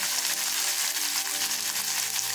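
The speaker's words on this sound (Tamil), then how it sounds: "கரம் மசாலா தேவையான அளவு அளவுக்கு நம்ம நல்லா வதக்கிடலாம்" Spices with tomato and chili powder fry for palak paneer, giving a steady, bright sizzle that hisses continuously and close throughout.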